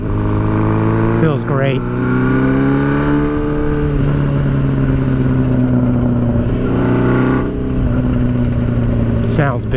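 An old school bobber motorcycle engine on its first ride runs loud and close, revving up and easing back again and again. A voice speaks briefly over it.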